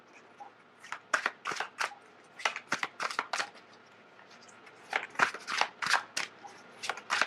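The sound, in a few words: shuffling tarot cards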